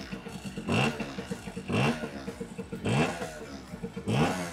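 A 1988 Yamaha FS1-M moped with a new piston and rings revs up close by, four rising two-stroke blips in a steady rhythm, with the idle burbling between them.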